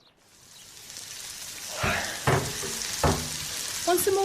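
Bacon frying in a pan in a period household kitchen, a steady close sizzle and crackle with a few sharp pops and light clatter rising over several seconds.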